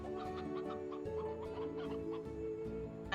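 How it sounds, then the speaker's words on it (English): A chicken clucks in a video game, giving a run of rapid, chattering clucks over a steady tonal game soundtrack. The clucks are fairly soft and continuous, with no talking. "I hear a chicken."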